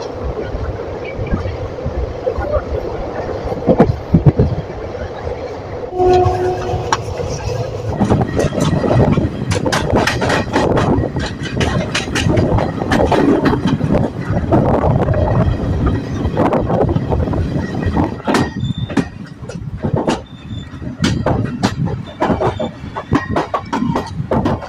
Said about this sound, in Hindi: और अब हमारी यह ट्रेन कटनी स्टेशन पहुंच गई है दोस्तों।